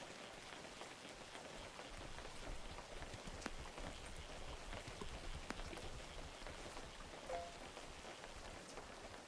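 Rain from a rain cloud in the fishing video game Webfishing patters steadily, a soft continuous hiss of drops with occasional faint taps, alone.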